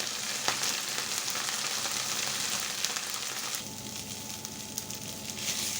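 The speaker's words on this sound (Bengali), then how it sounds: "শাকটা সুন্দর ভাজা ভাজা হয়ে গেছে" Leafy greens frying in a pan with five-spice seasoning, giving a steady, close sizzle that keeps going the whole time and brightens partway through, with no talking.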